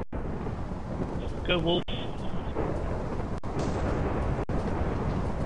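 Thunder rumbles from a lightning strike in Minecraft Survival Games, a broad noisy roar running under live-stream chatter while players talk over it.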